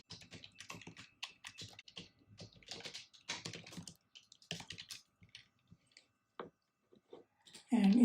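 Keys clacking on a computer keyboard while someone writes code, in quick irregular bursts with short pauses, fairly close and moderately loud, ending in a louder thump.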